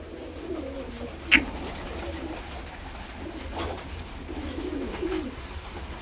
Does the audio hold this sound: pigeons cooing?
yes